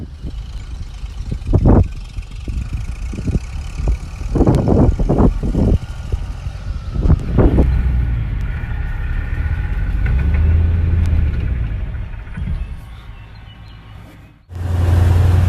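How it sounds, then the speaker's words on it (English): Engine of a rescue tow vehicle pulling a stuck truck free from a grassy field beside a fence, a steady low rumble that swells and holds, with a few sharp knocks and clunks early on. "here comes my rescue tow"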